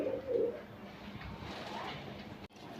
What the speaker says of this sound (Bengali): এখন দেখাবো এক জোড়া পাকিস্তানি কালদম কবুতর